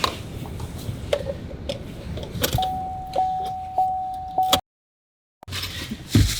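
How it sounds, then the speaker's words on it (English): Door of a 2012 Chevrolet Cruze opening and closing: sharp clicks and latch clunks while a steady warning chime sounds, ending in a solid slam followed by brief silence. "First, open the door, then close the door."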